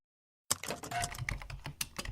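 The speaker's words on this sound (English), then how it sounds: "Do you know which word I am typing?" Rapid clicking keystrokes on a computer keyboard start abruptly after a moment of silence, a quick close irregular patter of taps with no voice.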